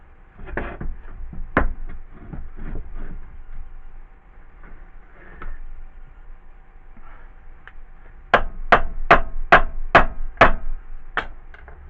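Sharp metallic hammer taps on a compressor cylinder block held in a vise, scattered knocks at first, then a quick run of about seven evenly spaced ringing strikes, close and loud in a quiet workshop.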